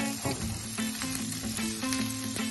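Vegetables with square-cut onion pieces frying in a pan for a quick curry, a loud continuous sizzle with crackling bursts and stirring clatter close by.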